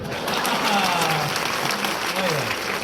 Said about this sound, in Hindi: एक एक व्यक्ति की तालियां इनके लिए उठेंगी।